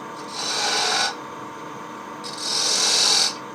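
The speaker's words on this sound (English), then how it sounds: "We're going to put a couple little tiny grooves in it with this point tool" Two bursts of bright, raspy scraping as a point tool cuts decorative grooves into a wooden spinning top turning on a lathe, each lasting about a second with a quieter pause between.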